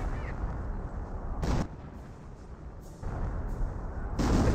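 Off-map artillery barrage in the World War II strategy game Company of Heroes: a dense, continuous rumble of booming impacts with several louder blasts bursting through, heavy and close, no talk.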